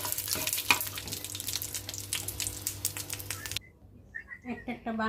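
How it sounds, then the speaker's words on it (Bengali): Dried red chilies fry in a pan with a loud, crackling sizzle for about three and a half seconds, with utensil clicks mixed in. The frying then cuts away to quieter clinks and brief background sounds. "শুকনো মরিচটা ভেজে নিচ্ছি"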